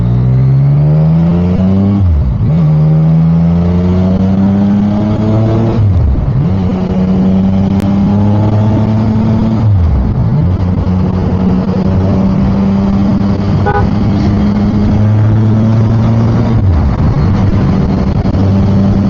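A vehicle climbing onto the North Luzon Expressway from the service road revs loudly and steadily through repeated gear changes, its engine pitch rising and then dropping several times, close and constant throughout.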